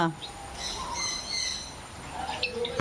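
Birds chirp and tweet in short, bright calls at an outdoor spot in Konkan during a picnic, moderately close, with people talking and calling out at points.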